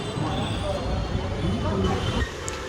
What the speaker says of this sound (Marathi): फायनली इतक्या वेळानंतर मेट्रो आली आहे